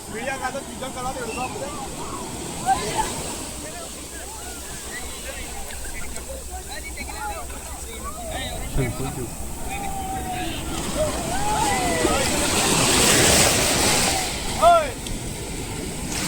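Ocean surf rolls and washes in continuously at Malpe beach with wind buffeting the microphone, a larger wave surging near the end, while people talk over it.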